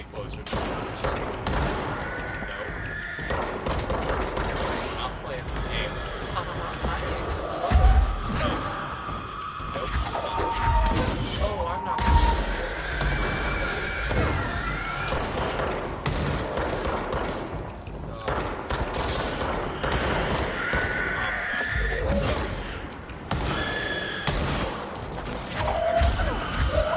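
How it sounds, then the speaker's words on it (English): Enemies blow up in Control amid rapid gunfire bursts, thumps and blasts that keep going for nearly half a minute, with a voice talking and reacting over the combat. "Oh, they explode. Oh, stop exploding."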